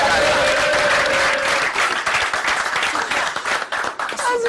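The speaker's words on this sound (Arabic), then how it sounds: "عطونا تصفيق" A studio audience bursts into loud, sustained applause, dense clapping that thins slightly toward the end.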